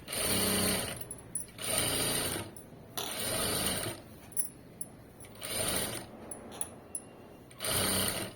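A sewing machine stitches piping onto a garment in about five separate bursts of rapid mechanical whirring, each lasting around a second, with short pauses and small clicks in between, heard close up.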